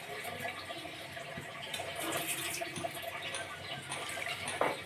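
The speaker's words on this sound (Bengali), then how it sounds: "দিয়ে দিব ঝোলের জন্য পরিমাণ মতো জল।" Water poured into a pan of simmering fish curry made with winter vegetables, a steady broadband splashing and gurgling pour that runs continuously for several seconds, close and moderately loud with no talking.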